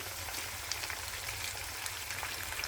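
Chicken and chopped tomatoes fry in a pot for chicken pulao, giving a steady, close crackling sizzle with fine popping throughout and no talking.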